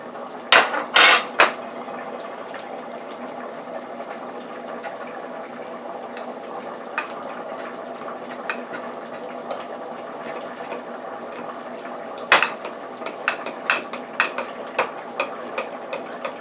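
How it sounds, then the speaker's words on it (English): A fork stirs flour into beef broth for a stew, giving light scraping and clinking against the pot, mostly a soft steady background with bursts of sharper taps near the start and toward the end. "I have a fork and I'm just going to mix the flour in with the broth."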